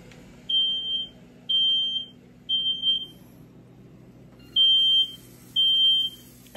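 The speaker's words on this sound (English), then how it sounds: "let me go stop this fire alarm right quick" A smoke alarm near a kitchen with food cooking sounds a shrill, high electronic beep in five evenly spaced half-second bursts, loud and close over a quiet low hum.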